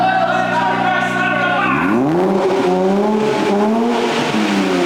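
A Nissan Z engine with aftermarket downpipes revs loudly and continuously, pitch sweeping down then climbing and wavering as the throttle is worked, close and unbroken.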